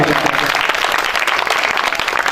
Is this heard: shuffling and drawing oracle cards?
no